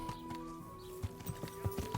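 Horse hoof clip-clops in a quick, uneven trot in the game Kingdom Come: Deliverance, set against a steady tonal hum from the game soundtrack.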